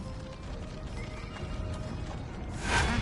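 A horse in the video game Neverwinter, with soft steady background ambience and a louder neigh-like burst near the end.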